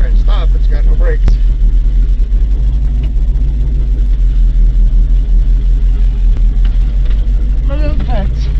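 A Chevy 3/4 ton 4x4 truck engine runs loud and close after a cold start, a steady low rumble with a rough idle character throughout.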